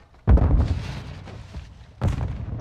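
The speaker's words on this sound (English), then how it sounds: "Throwing stun grenade." A stun grenade goes off in a video game, a heavy, booming blast followed by a second loud burst moments later, close and punchy with no talk over it.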